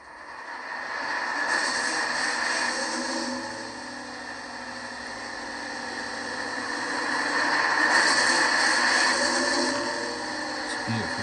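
An Accurascale Class 55 Deltic model locomotive with a sound decoder starting up, a steady hissing diesel roar that swells, dips and rises again, close and continuous with no talk.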